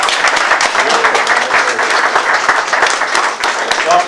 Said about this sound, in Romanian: Puteți să aplaudați.